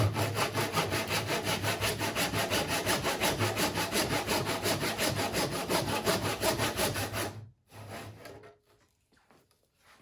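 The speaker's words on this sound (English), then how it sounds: "I'm going to put the saw into the slot across." A backsaw cuts wood in a mitre box for a 45-degree angle, steady rhythmic rasping strokes close up and loud for about seven seconds, then stopping abruptly with a few faint clatters after.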